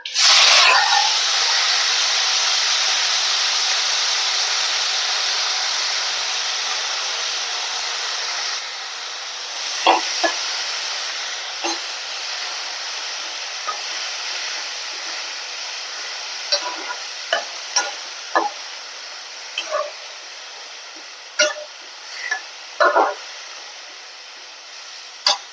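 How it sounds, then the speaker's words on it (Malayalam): Curry leaves and broad beans hitting hot oil in a pan, a loud burst of sizzling at the start that gradually settles into a softer hiss dotted with crackles and scraping stirs. "കറിവേപ്പില, അമരപ്പയർ ഇട്ട് കൊടുക്കുക."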